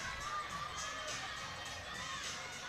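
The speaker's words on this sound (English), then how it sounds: "her parents are out here in the crowd cheering her on with her team" A crowd cheers and shouts at a college women's gymnastics meet between BGSU and Ohio State, a steady, fairly distant wash of voices throughout with no clear single speaker.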